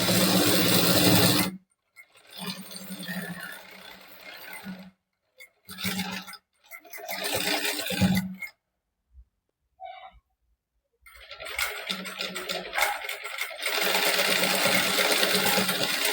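Sewing machine stitching a size 26 princess-cut blouse with an open back, in several separate bursts of running stitches with quiet pauses between them, close and fairly loud.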